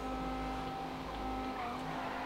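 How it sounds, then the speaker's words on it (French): The world's fastest motorcycle running at around 300 km/h, a steady, loud engine roar with a sustained whining tone and constant wind rush, no gaps. "la moto la plus rapide du monde, c'est vraiment la moto la plus rapide du monde en fait"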